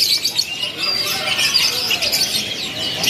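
Canaries in a bird shop's stock cages, a busy chorus of bright high chirps and twittering overlapping continuously, fairly loud and close.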